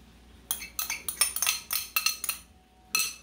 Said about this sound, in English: I'm also gonna stir in the carrots